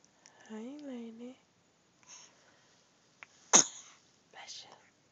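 A baby girl gives one sharp, close sneeze mid-clip, set between soft cooing adult talk and small baby vocal sounds.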